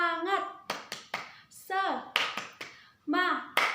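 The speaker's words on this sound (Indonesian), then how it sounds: "Tepuk semangat." Children join a 'tepuk semangat' rhythmic clap chant at an online Sunday school service, sharp claps in quick patterned bursts alternating with sung chanting voices.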